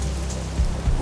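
Heavy rain pours steadily on a mountain trail up Mount Kinabalu, a dense constant hiss with low rumbling swells near the middle and end of a short stretch, no voices.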